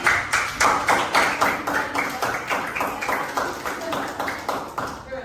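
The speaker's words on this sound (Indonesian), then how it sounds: "Tepuk tangan untuk Reni." Classroom clapping for a student during a Balinese-language lesson at a junior high school: a group claps in a loud, regular rhythm of sharp beats, close by, slowing slightly and fading toward the end.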